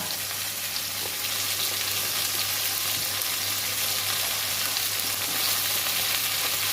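Pumpkin stalks and boiled potato frying in a pan, a constant close sizzle and crackle running evenly throughout with faint stirring, no voices.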